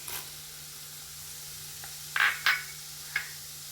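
Onion and garlic sizzle in a pan for Kerala-style beef fry: a soft, low hiss with a steady hum underneath, broken by a few brief louder clinks or scrapes near the end, with no talking.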